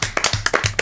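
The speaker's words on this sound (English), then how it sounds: "Everybody wake up and clap your hands." Hands clap in quick, uneven bursts close by, several sharp slaps spaced across under a second.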